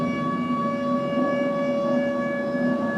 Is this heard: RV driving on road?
no